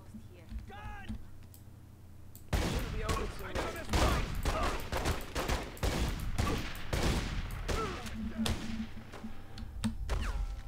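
A rapid, crackling volley of gunfire in The Godfather II game erupts after a quieter opening and keeps going in loud, close bursts, with a voice talking over the shooting.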